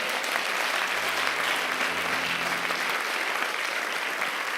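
A church congregation applauds in a steady, dense wash of clapping that fills the space evenly from start to finish, with a low sustained hum of music underneath.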